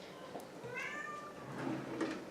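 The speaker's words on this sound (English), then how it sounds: "do you hear the cat yowling?" A cat yowls indoors in a kitchen, one drawn-out wavering cry with a few fainter vocal fragments around it, quiet and slightly distant against low room noise.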